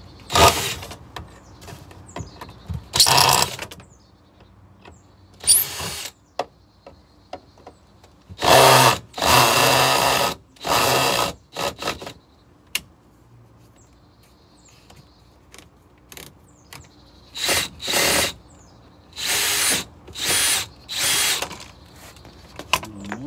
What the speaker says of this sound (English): So I'm gonna take these screws out.